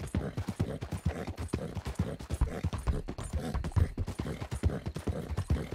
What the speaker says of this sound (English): where's my horse at? I think, yeah, she's following.